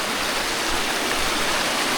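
Water pours down a waterfall at the Mukundraj site in Ambajogai, a loud, unbroken roar of rushing water heard up close, with no speech.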